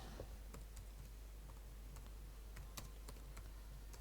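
Quick, irregular keystrokes on a computer keyboard, soft clicks scattered over a low steady hum in a quiet room.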